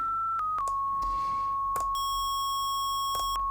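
A steady, pure 1 kHz sine test tone holds continuously throughout, sliding slightly lower in pitch early on, with a few clicks and faint noise underneath.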